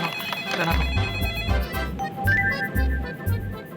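A phone ringtone plays a bright electronic melody over a repeating low beat, loud and close.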